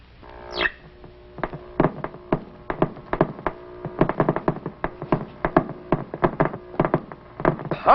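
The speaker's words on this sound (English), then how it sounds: "What you are hearing are actual cosmic ray bullets." A cosmic ray detector clicks steadily as it picks up particles: irregular sharp clicks and ticks in a steady, uneven stream, close and fairly loud, with a faint hum underneath and no voices.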